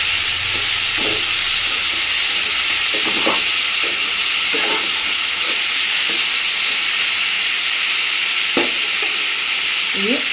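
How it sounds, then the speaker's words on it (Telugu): Carrot pieces frying in oil for a carrot egg curry, a steady broadband sizzle and hiss filling the clip, with scattered stirring scrapes and clicks over it and no talking. "క్యారెట్ మొత్తాన్ని కూడా ఇందులో వేసేసి ఆయిల్లో ఫ్రై చేసుకోవాలి"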